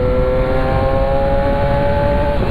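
A Yamaha R6 600cc sport motorcycle engine holds a steady, high-pitched whine while being ridden, with wind rumble underneath and no voices.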